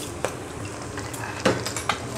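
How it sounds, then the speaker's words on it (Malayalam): Chopped onions and small shallots dropped into a pan with chilies and stirred, a low sizzle under several clinks and scrapes of a spatula on metal, close, without speech. "ഇനി നമുക്ക് ഉള്ളി ഇട്ട് കൊടുക്കാം."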